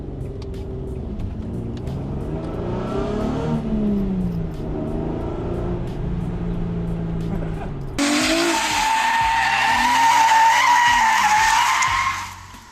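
Tires squeal and skid as a 23-year-old Nissan 350Z on carbon fiber wheels drifts, with engine revving under a voice at first, then a loud sustained screech swelling over the last few seconds before cutting off.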